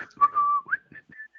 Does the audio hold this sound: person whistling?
yes